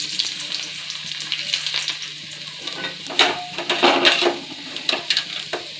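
Chopped garlic sizzles and fries in hot oil in a pan alongside fish for a Bengali-style curry, a steady close crackle with stirring scrapes and clinks toward the end.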